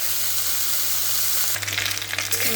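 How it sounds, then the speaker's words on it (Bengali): Vegetables sizzle loudly in a hot kadai, nearly done frying, in a steady close crackle. Midway it flares into a rougher burst of stirring and spattering, then settles again. "ওই কড়াইটিতে সবজিগুলো কিন্তু প্রায় ভাজা হয়ে গেছে।"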